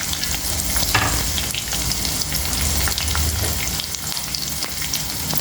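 Dried red chillies, crushed garlic and curry leaves fry in oil as a tempering for tomato dal, producing a loud, steady crackling sizzle with faint stirring sounds throughout.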